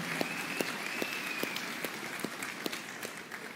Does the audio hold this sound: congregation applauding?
yes